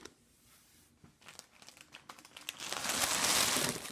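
Wax melt packaging crinkles and rustles as the melts are slid out, close and faint at first, with scattered crackles and tearing-like sounds that build into steady, louder crumpling toward the end.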